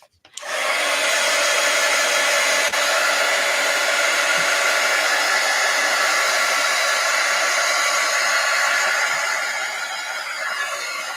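A hair dryer blowing on a damp carving for a journal runs steadily and loudly after a quick start, a continuous whooshing roar that stays even throughout.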